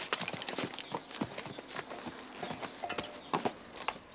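Horse hooves clip-clopping at a steady walk on firm ground in rural Andalusia, with soft, fairly close, irregular beats continuing throughout with no talk.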